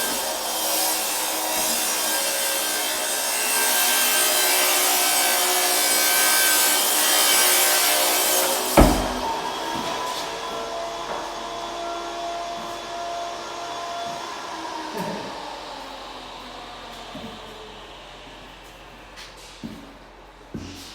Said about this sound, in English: there's a lot of tile work happening in the master bathroom